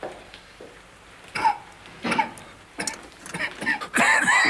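An elderly man coughs in a hospital bed, a few separate harsh coughs and throat sounds coming in bursts, close and fairly loud.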